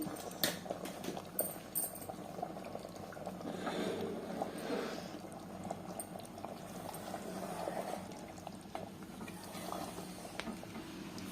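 Mutton curry simmers in a pot, giving a continuous low bubbling and gentle popping close by, with a few faint clinks in the background.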